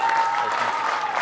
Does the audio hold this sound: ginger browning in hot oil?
no